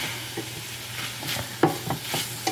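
Onions being stirred into steak frying in a pan, a soft sizzle with scraping spatula strokes and a few sharper clanks against the metal, quiet and close.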